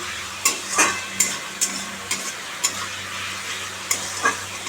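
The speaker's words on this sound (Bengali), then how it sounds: "এখন মশলাটা কষিয়ে নিচ্ছি ভালো করে" Spices sizzle in hot oil in a pan while a spatula stirs and scrapes in short, evenly spaced strokes over a low steady hum, close by and without speech.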